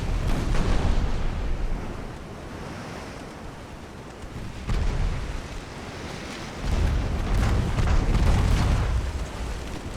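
A deep, rumbling naval explosion in Ultimate Admiral: Dreadnoughts, an 1890 U.S. Navy warship battle against France, with broad surging booms and roaring swells that rise and fall across the scene and no talking.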